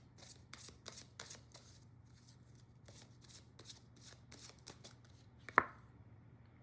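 A deck of tarot cards is shuffled up close in a quiet room, a series of quick riffling bursts in a steady rhythm, ending with a sharp tap.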